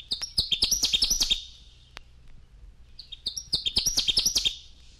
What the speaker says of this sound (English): Connecticut Warbler.